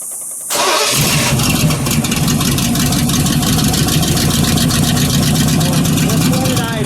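A 1952 Kurtis 500S with a V8 engine fires up after a brief crank and settles into a loud, close, steady idle with a rapid rumbling pulse; no talk is heard.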